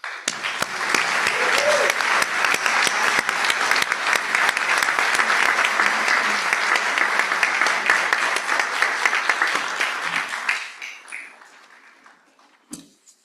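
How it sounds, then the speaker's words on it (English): Audience at a school board of education meeting applauding a retiring teacher, sustained moderately loud clapping for about ten seconds before it fades out, followed by a couple of isolated claps. "we're clapping anyway"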